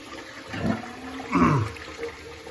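Hot water runs from a tap during a straight razor shave, a soft steady rush that swells twice, moderately near and heard alone.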